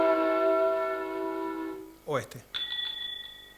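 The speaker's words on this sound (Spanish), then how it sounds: "Son dos campanas, ¿verdad? No las vemos, pero oímos que una es mayor y otra es menor." Two bells of different sizes ring in turn. The larger one gives a lower, ringing tone that fades. After a brief spoken question, the smaller bell rings higher and brighter and decays slowly.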